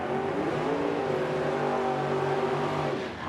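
Drag-racing cars, a 1966 Chevelle and a 2005 Grand Am, launch down the strip with loud, sustained engine roars whose pitch rises steadily, then tapers off at the end.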